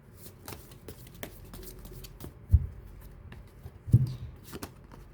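Tarot cards being shuffled, soft faint riffling and patting with a couple of louder thumps as the deck is handled, no talking.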